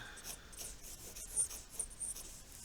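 A pen scratches across paper in short rubbing strokes while drawing a turtle's motorbike seat, the quiet, steady scraping continuing without talk.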